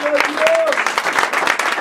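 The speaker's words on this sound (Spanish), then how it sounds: "Denle un fuerte aplauso al Señor." A church congregation breaks into loud, dense applause close by, mixed with voices and a few brief cheers from the crowd.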